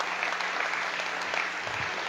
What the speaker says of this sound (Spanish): dele fuerte palmas al Señor